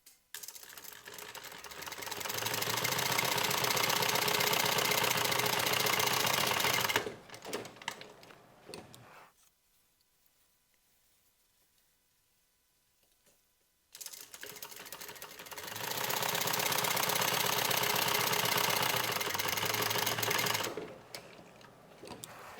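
A sewing machine top stitches a bag lining, two long bursts of rapid, even mechanical clatter separated by a quiet pause, each run starting and stopping with short slower stitches.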